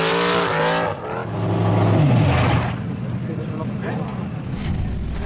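Icelandic formula offroad car driving hard on a dirt track, its engine revving loudly and continuously as it climbs, with a voice talking over the motor noise.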